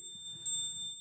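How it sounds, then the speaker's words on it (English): A small bell rings with a bright, sustained metallic tone, struck again partway through so the ringing swells and then lingers, close and clear against a quiet room. "And a bell I had at a Christmas program"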